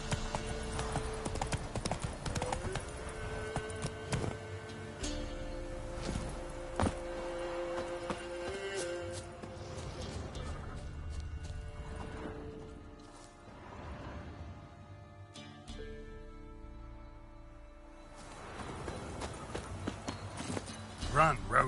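Roach, the horse from The Witcher 3, galloping with a quick clip-clop of hooves that rises and fades, under talk and game music.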